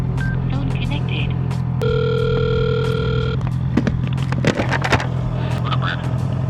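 A phone call connects while riding outdoors, a steady electronic tone lasting more than a second over ongoing road and engine noise, followed by scattered clicks.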